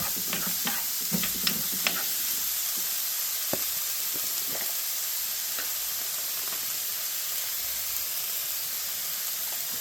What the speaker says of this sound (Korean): 애호박과 양파를 함께 볶다가